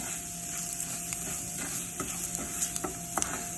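Risotto rice toasts in a hot pan with a steady sizzle and light frying crackle, while a spoon or pan knocks against it in irregular, close scraping strokes throughout, with no voices.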